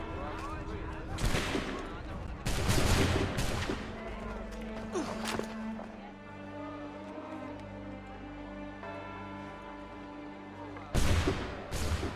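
A volley of musket gunfire in Assassin's Creed III, with sharp loud bursts of shots spread across the scene, including a final blast near the end, over a sustained droning orchestral bed.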